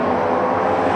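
Ford Mustang Shelby GT350 passing through a tunnel, a loud, steady engine roar with broadband rumble echoing off the walls, sustained for a short moment with no voices.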